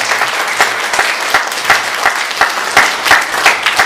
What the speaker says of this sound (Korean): 박수로 격려해 주시면 감사합니다